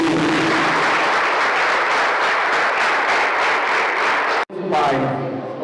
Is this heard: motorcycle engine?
no